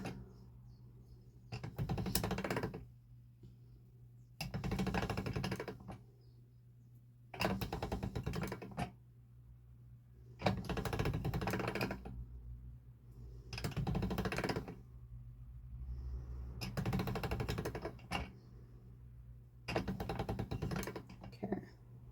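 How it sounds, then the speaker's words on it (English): Polymer clay is fed through a hand-cranked pasta machine to condition it, giving seven evenly spaced bursts of rolling, crunching noise, each about two seconds long, separated by short quiet gaps. "Let's quickly finish conditioning this one through the pasta machine."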